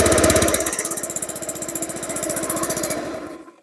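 A motorcycle engine freshly washed and being tested putters close and loud in a fast, even rhythm, then dies out at the end.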